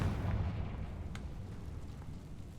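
The Confringo spell explodes in Hogwarts Legacy with a low, rumbling blast, a muffled boom that carries on as a steady roar with a brief crackle in the middle.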